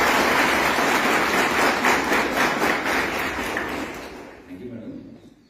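Loud, dense applause from an audience welcoming a forest range officer at a school tree talk event, sustained for several seconds before tapering off, with a voice beginning to speak as it fades.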